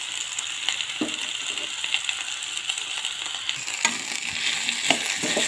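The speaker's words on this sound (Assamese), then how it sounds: "তাৰপিছত ঢাকনিখন গুচাই মই নহৰুখিনি দি দিলোঁ।" Garlic sizzles in hot oil in a pan while cooking a sajina and mustard dish, a steady crackling fry with occasional clinks and scrapes of stirring, at moderate level with no talk.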